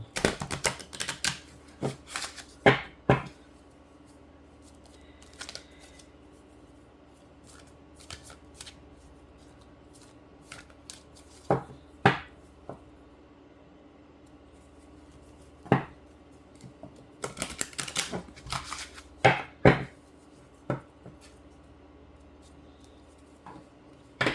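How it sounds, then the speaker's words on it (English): Large oracle or tarot cards are shuffled in quick riffling bursts separated by quiet pauses, crisp and close, with no talking. "I'm gonna shuffle here a little bit"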